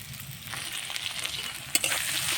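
Meat fries in oil with cumin and crushed garlic for a meat curry, giving a steady close sizzle with light scraping and a few sharper crackles toward the end.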